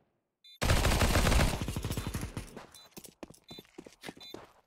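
A Negev machine gun in Counter-Strike on the Anubis map lets off a loud, rapid burst of continuous automatic fire that trails into scattered shots and footsteps.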